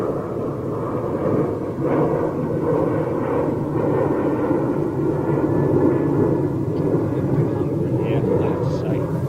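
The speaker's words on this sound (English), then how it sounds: "I love their 777, man." A Boeing 777 jet taking off, heard as a loud, steady engine roar and rumble that holds through the whole stretch, with a voice talking faintly under it.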